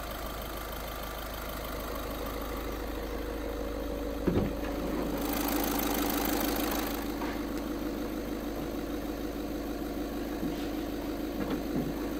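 The diesel engine of a 2019 Volkswagen Polo Highline Plus idles with a steady, even hum, heard alone from close range, with a brief louder stir partway through.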